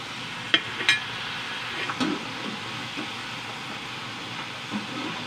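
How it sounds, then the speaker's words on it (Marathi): French fries deep frying in hot oil until browned, a steady broadband sizzle and hiss running throughout with a few brief clicks and pops, fairly close and even in level. "मस्त छान त्याला डीप फ्राय होऊ द्यायचं, ब्राऊन कलर येऊ द्यायचा याला।"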